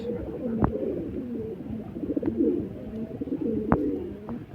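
Low, throaty cooing from Kasuri and Rampuri pigeons runs continuously nearby, punctuated by a few sharp clicks or taps spaced a second or two apart.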